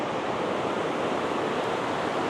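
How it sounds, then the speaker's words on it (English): A river roars through a cave canyon, surrounded by cave walls: a dense, steady rushing wash, close and loud, unbroken and with no voices. "the river's just roaring alongside of me"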